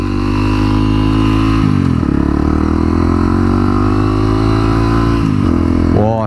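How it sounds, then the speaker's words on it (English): A Honda CRF250L 250cc single-cylinder motorcycle rides on a snowy road, its engine loud and close as it holds a steady drone, with gear changes around two and five seconds and a quick rev at the end. "This bike sounds so brilliant."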